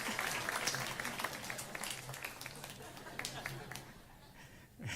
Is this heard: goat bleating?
no